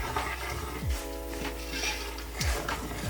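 Cinnamon sticks and cloves frying in a pan for beef rendang give a steady low sizzle. A utensil clinks and scrapes against the pan a few times, close up with no talking.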